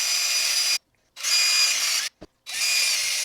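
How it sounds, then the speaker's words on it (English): A power drill boring through silicone runs in three loud, steady whirring bursts with short silent gaps between them and a single sharp knock in the second gap. "Now we're just going to drill right through our silicone."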